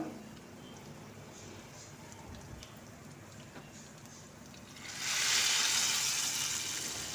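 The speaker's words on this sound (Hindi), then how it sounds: "बस लगा देंगे इसके ऊपर हम तड़का" Oil tempering with fried onions hits mixed lentil daal with a sudden loud sizzle that swells and keeps crackling steadily, close up, after a few seconds of quieter kitchen noise.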